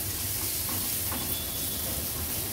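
Chopped tomato is stirred into fried onion masala in a pan, with a steady dense sizzle and hiss throughout and faint scraping stir strokes. There is no talk.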